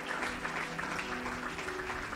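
Church congregation applauding together, a steady wash of clapping from many hands that fills the room at moderate volume without pause.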